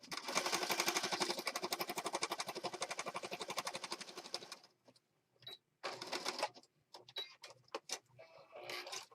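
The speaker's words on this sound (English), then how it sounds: "I'm just going to stitch down the side here, zigzag stitch" A sewing machine zigzag-stitches down the thick side of a handmade planner journal, running steadily in a fast even chatter for several seconds, then stopping and restarting in short bursts, close up with no voices.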